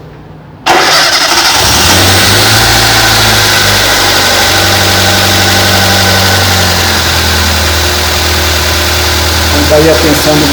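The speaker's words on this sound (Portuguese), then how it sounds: "Para isso a gente vai precisar funcionar o motor." After a short quiet moment, a Fiat Uno 1.0 Fiasa engine cranks and catches, then settles into a loud, steady idle that runs on without pause.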